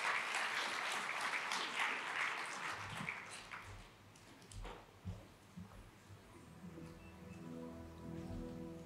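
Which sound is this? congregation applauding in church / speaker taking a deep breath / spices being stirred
congregation applauding in church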